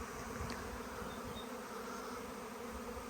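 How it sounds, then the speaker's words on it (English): A dense, steady buzzing of a honeybee swarm fills a garden, a continuous droning hum with no pauses. "I've just been woken up to the sound of this absolutely loud roar of swarm of bees"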